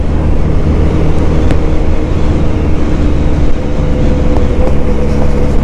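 A QJ Motor SRK 400 motorcycle, a 400cc bike, drones steadily while being ridden, its engine a loud continuous rumble that barely changes in pitch throughout.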